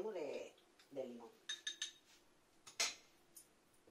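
Bread dough ingredients are stirred in a bowl for a quick rustic no-yeast loaf, with a few scraping strokes and sharp clinks of a utensil against the bowl, faint and close, with a voice speaking briefly.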